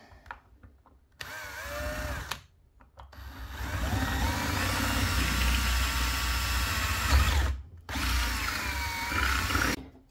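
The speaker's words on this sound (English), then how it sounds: "Let's drill it out." An electric drill bores out the nozzle of a gas gun, widening an opening just under 4 mm; the motor whines loudly in two sustained bursts separated by brief pauses, close up and with no talking.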